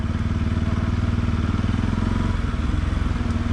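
A motorbike engine idles and runs steadily near a rock trail in Wayanad, a loud, close, rhythmic low thumping putter that holds an even pace throughout.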